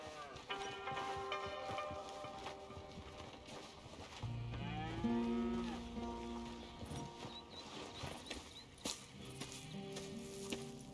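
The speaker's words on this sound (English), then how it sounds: "Here's the cows." Cattle low repeatedly in Red Dead Redemption 2, with several drawn-out moos at moderate distance over a faint farm background. A few soft hoof clops and light ambient noise come between the calls.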